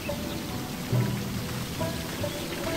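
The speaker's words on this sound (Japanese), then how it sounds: "雨降ってる。" Rain falls in the video game Sakuna: Of Rice and Ruin as a steady close hiss of drops on surfaces, with a soft low rumble and faint pattering throughout. No one speaks.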